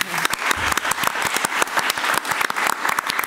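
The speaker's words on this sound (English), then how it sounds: "let's give them a big hand" An audience at a talk on modern China applauds, a dense, even wash of many hands clapping close and loud without a break.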